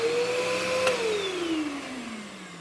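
Bagless Bissell Powerforce vacuum cleaner running alone with a steady high motor whine that dips slightly in pitch partway through, loud and close, with weak suction from a clogged hose.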